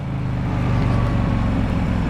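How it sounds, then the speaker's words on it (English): A 1984 Harley Davidson Tour Glide engine runs steadily and loud up close, its low rumbling idle swelling slightly as it revs, with no talking. "See, it revved up clean."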